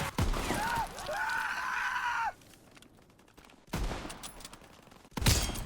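Sniper rifle fire in Call of Duty, a sharp nearby shot with a whooshing tail and sustained metallic ringing, a quiet gap, then more noise and a final loud crack near the end.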